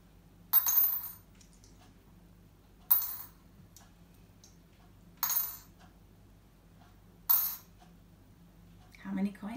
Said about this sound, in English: have a listen and see how many coins you can hear